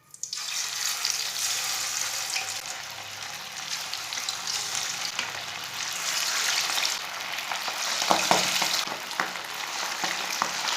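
Marinated fish for a Lahori-style fry goes into hot oil and gives off a loud, steady, hissing sizzle for the whole stretch, with slight crackling swells and no talking.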